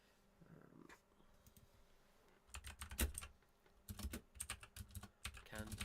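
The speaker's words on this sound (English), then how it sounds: "I wish everybody could see how good at typing he was just then" Rapid bursts of keyboard typing, close and fairly loud, clattering in irregular runs after a quiet start, with no talk over them.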